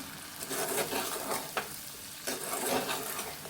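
Spiced okra curry is stirred in a hot pan, a spoon scraping through it in repeated strokes over a constant frying sizzle, with no voices.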